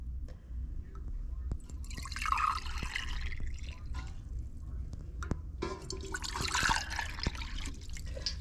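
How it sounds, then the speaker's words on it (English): Water trickles and drips into small containers being filled to sprout avocado seeds, with scattered clicks and splashes in an indoor setting. "We're gonna go ahead and fill these with water."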